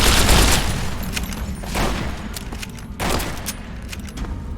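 Gunfire in the video game Fallout: New Vegas, a run of sharp shots and bursts rattling out at irregular intervals, loud at first and then spaced apart over several seconds.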